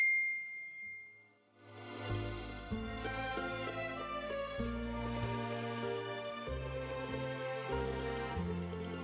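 A single bright notification bell ding rings out at the start and fades within about a second. Soft background music then enters and carries on to the end.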